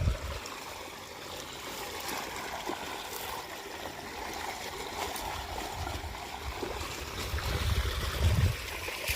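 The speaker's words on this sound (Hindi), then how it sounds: "पानी की रफ्तार अभी ठीक है" Water from a borewell pump gushes out in a steady, moderately loud outdoor stream, with a continuous rushing and gurgling.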